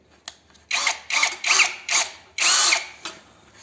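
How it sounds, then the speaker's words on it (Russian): A DRIVAK ED002 cordless drill boring with a 50 mm spade bit, several loud whirring bursts of varying length with brief pauses between, close up and without talk. "Ну а теперь попробуем мое знаменитое 50-е сверло, перо. Попробуем что-нибудь продырявить."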